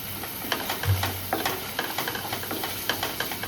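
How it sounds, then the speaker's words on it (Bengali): Paneer with turmeric and chilli sautés in a pan, giving a steady soft sizzle broken by repeated light scrapes and taps of stirring. "এবার এই সবটার সঙ্গে যে হলুদ আর লঙ্কা যেটা দিলাম এগুলো ভালোভাবে কষবে"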